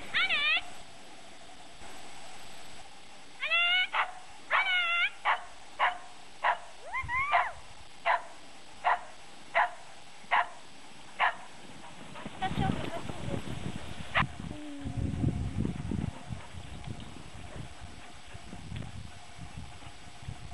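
Samoyed dogs pulling a skier through snow give a run of about a dozen evenly spaced sharp barks and yips, moderately close, followed by rustling movement and wind noise.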